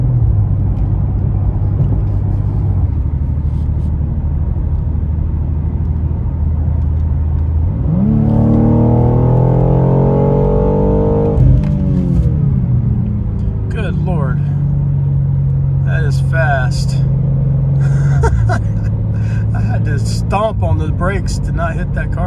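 BMW M2 G87 coupe, just back from its break-in service, merging onto an expressway, heard from inside as a steady engine drone that climbs sharply in revs under acceleration, then settles into a lower cruising hum.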